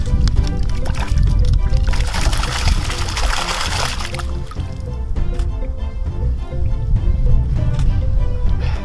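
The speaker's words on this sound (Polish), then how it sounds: "Oczywiście wypuszczamy je do wody." Bleak caught in a speed-fishing competition being tipped back into the water, making a steady, loud rush of pouring and splashing water that runs through the whole stretch with little pause.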